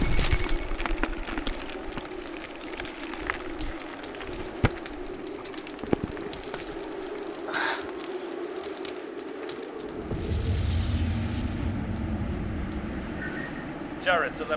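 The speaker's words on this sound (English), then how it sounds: "Kron throws down the gravity charge." A gravity charge thrown down in a science-fiction audio drama goes off: sharp cracks punch through busy battle ambience, then a deep, loud rumbling swell takes over near the end.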